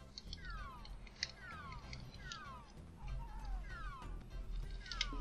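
Repeated high meows from a cat in a room, several short falling calls spaced through the clip over low background noise.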